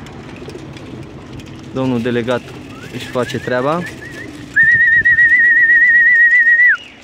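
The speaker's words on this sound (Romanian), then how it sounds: "Porumbei, cum se vede, porumbei sunt" Pigeons, about 15 of them, coo in bursts close by on a loudspeaker-equipped vehicle, with a long sustained whistle-like tone later; someone talks over them.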